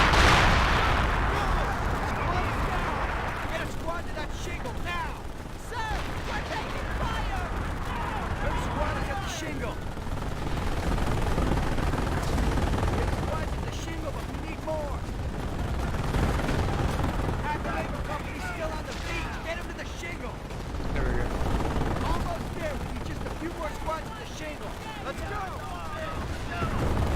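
Machine gun bursts and booming artillery fire pound continuously in the Company of Heroes beach landing battle, dense and chaotic, with shouting soldiers and voices mixed in throughout.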